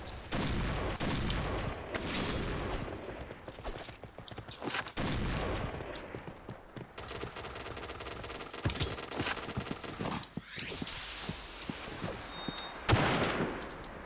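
An Ultimax machine gun fires long automatic bursts in the shooter game Point Blank, with rapid loud rattling volleys broken by short pauses and scattered game effects.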